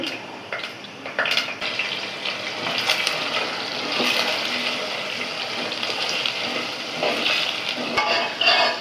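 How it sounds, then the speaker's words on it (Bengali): Potatoes frying in soybean oil in a pan, a steady close sizzle and crackle running throughout, with occasional stirring clinks and scrapes, no talking. "এই যে পরিমাণ মতো আমি সয়াবিন তেল দিয়ে দিচ্ছি আগে হচ্ছে আমি আলুগুলা ভেজে তুলে নেব"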